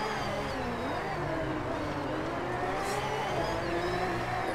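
A fast car's engine in the DriveClub racing game on PS5 climbs and holds through steady acceleration, a loud continuous drone with rising harmonic tones and no voices over it.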